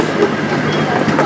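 Steady, loud rumble of a zoo train pulling into its depot, with a continuous rolling roar and faint rattling throughout.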